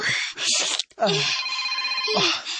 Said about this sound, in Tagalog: May nanawag sa mong cellphone.